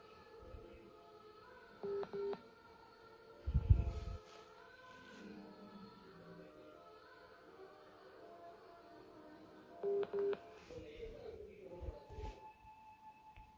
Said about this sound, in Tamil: ஹோல்டை போட்டால் பீப், அந்த சவுண்டு வந்து வந்துகிட்டே இருக்குது